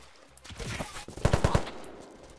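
A gun in the Unturned video game fires a quick burst of four sharp shots in rapid succession, preceded by softer game noise and scattered clatter.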